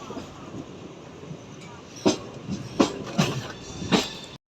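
A train rolls onto platform two at Nidadavolu Junction station, a low rumble broken by four loud clacks of wheels crossing rail joints in the second half, with faint talk in the background.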